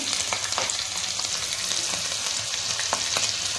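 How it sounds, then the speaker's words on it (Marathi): Chilies crackle in hot oil for a tempering over semolina dhokla, a steady dense sizzle scattered with sharp little pops, close up and with no voices. "छान अशी तडतडू द्यायची आपल्याला मिरची"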